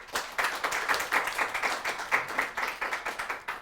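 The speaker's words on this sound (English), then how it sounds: "Let's give Joanne a round of applause" An audience claps after a talk, with distinct individual claps pulsing in a quick, uneven rhythm from a modest crowd at moderate volume, and no voices are heard.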